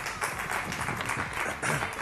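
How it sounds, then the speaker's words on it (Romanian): A short burst of dense clapping from a Romanian morning TV show studio audience, steady and moderately loud throughout, with no voices standing out. "Aplauze!"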